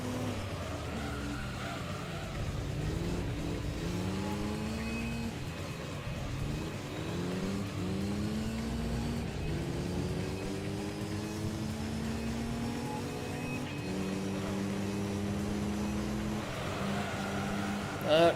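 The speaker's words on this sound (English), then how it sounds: "It's a rally car, we're going off-roading." Rally car engine in the Gran Turismo 3 racing game, driven off-road, droning steadily with rising and falling revs as it shifts through gears, moderately loud and continuous.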